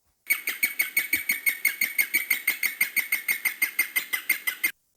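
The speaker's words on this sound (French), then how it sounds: "il y a un cri de cochon d'Inde qui est très énigmatique" A guinea pig gives a rapid series of about twenty high, bird-like chirps in a steady rhythm, sounding close and clear with no other sounds around it, like a small songbird calling in panic.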